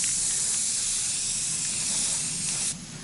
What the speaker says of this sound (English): I'm just spraying it underneath